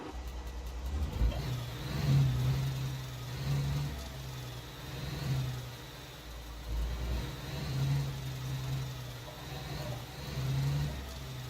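A truck engine in the Alaskan Road Truckers video game, played with an Xbox and steering wheel, hums and revs in gentle swells as the vehicle pulls away, fairly quiet and steady with no talking.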